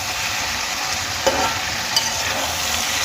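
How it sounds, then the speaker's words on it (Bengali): Potatoes, peas and paneer sautéing in a pan with a steady, close sizzle and a couple of brief stirring clinks, no voices. "এখানে আলু মটর আর পনির আমি আরও কিছুক্ষণ কষিয়ে নেব।"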